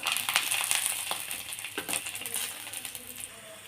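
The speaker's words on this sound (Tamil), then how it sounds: "அந்த எண்ணெயிலேயே பெருங்காய கட்டி, ஒரு 3 பல்லு பூண்டு, அதை போட்டு வறுத்துக்கலாம்." Asafoetida lump and three garlic cloves roasting in hot oil, giving a steady soft sizzle with scattered crackles and small pops throughout, close and fairly quiet.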